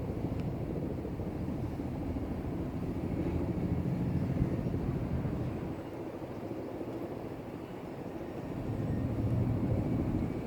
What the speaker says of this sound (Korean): 헬리콥터가 이리로 가고 있습니다